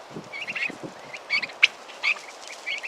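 Backyard fowl call out with short, scattered clucks and squawks, some higher-pitched honk-like notes among low murmurs, fairly close and moderately loud, with no talking.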